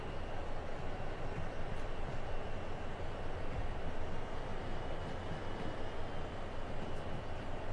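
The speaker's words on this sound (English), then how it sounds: "Try and make it past these coal trains here." Train locomotive rumbling steadily in a train simulator video game, a low continuous engine drone and rolling wheel noise at moderate level, with no talk.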